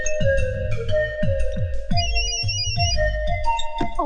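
A mobile phone rings loud and close with a repeating electronic melody, its tones pulsing in an even rhythm throughout.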